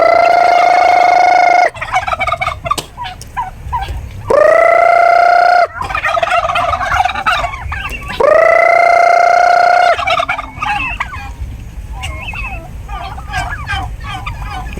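Turkeys gobble loudly and close at hand: three long, rattling gobbles come a few seconds apart, with softer clucks and chatter from the flock filling the gaps between them.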